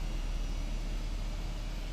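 Airbus A320 jet engines in a flight simulator game give a steady, faint broadband whine and rush with no variation over two seconds.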